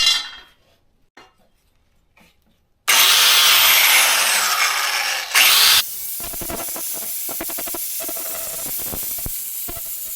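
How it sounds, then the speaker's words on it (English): Bench grinder cleaning up cut metal edges and stripping paint, part of a Harbor Freight sandblaster repair; a loud, steady hissing grind runs for about three seconds after a quiet start, then continues at a lower, rasping level. "So I'm gonna take this over to the grinder. We'll get these edges cleaned up a little bit, get the paint off of there"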